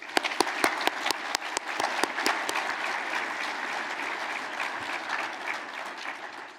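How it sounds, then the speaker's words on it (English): Audience at a regional chamber annual meeting applauding award recipients, steady close clapping from a crowd that holds for the whole stretch with a few sharp individual claps at the start. "Can we please give another round of applause to our 3 award recipients just one more time?"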